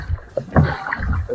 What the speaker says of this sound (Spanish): Vamos ya en la lancha